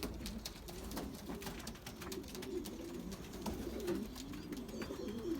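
Belgian racing pigeons, young and old birds together, come back to the loft from a 40 km test race. Steady low cooing sounds close by, with soft clicks and flutters scattered through it.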